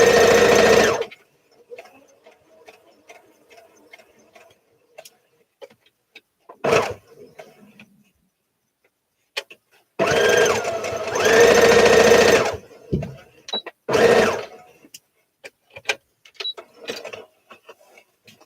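A sewing machine stitching fabric corners for a Simplicity S8855 sewing project, loud rapid stitching bursts separated by pauses, a few short stitches in between, with the fabric shifted by hand between runs.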